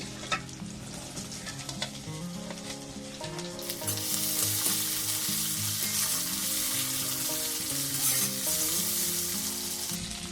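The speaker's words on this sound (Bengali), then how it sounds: "আলুগুলো দিয়ে দেবো রসুনটা ভাজা হয়ে গেছে" Garlic fries in a pan, a loud steady sizzle that swells partway through as potatoes go in, with faint background music underneath.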